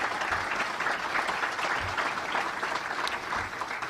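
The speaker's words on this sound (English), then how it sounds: "Give him a great round of applause." Sustained, dense applause from a crowd at a Republican party breakfast fills the room for a hall-sized ovation for Ron Amstutz, steady and loud throughout with no pauses.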